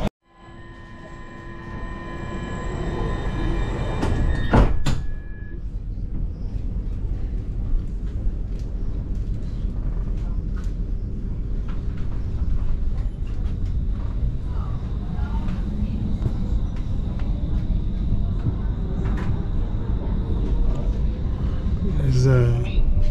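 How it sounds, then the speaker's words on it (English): Passenger train ride departing Stockholm central station, with a steady low rumble of wheels on rail and carriage noise running the whole way, plus brief clanks near the start and faint voices in the background. "I took a train from the central station, and now we are going at the site."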